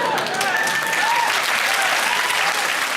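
A studio audience on a comedy panel show claps in a loud, sustained, dense wave of applause that fills the whole stretch evenly, with some voices mixed in.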